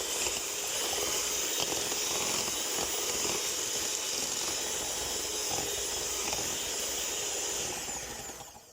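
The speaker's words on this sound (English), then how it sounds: "We're just going to give it a little whisk, and that's going to just combine them a little bit, and then I'll get the whisk going on a lot faster" An electric whisk hums steadily at close range as it beats eggs and sugar for custard cream blondies. The motor drone runs continuously and then winds down at the end.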